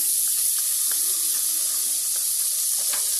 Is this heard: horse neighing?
no